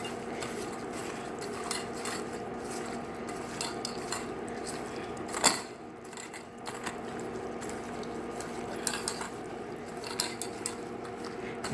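Chicken and shrimp tossed with Old Bay and Cajun seasoning, quiet clinks and scrapes from a bowl and utensil with one sharper knock partway through, no talking.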